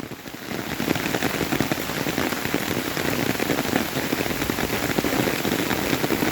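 Steady, dense rain pattering on a surface, even and continuous throughout with no voices.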